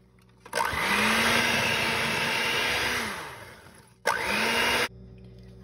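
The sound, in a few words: electric mixer mixing ricotta into cookie batter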